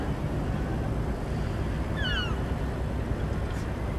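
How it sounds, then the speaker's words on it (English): Seagulls at a cruise port call in a short, faint burst of a few cries over steady wind and ambient harbour noise. "Seagulls sound noisy today."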